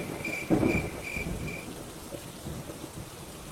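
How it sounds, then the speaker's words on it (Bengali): A rainstorm pours steadily while a roll of thunder booms early on, then fades into the continuous hiss of rain falling on surfaces, with no voices present. "এই রে, আজও দেখছি খুব ঝড় উঠেছে।"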